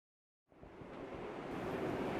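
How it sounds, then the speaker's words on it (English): Water rushes loudly beneath a wooden bridge at a watermill, a steady broadband roar that bursts in after a brief silence and holds close and constant. "because of the rush of water coming beneath us on this wooden bridge we're now standing on"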